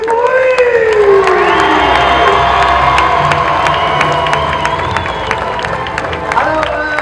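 A crowd of adults and children at a Wild West show at OK Corral cheers, shouts and claps loudly and continuously, with a voice rising over the din.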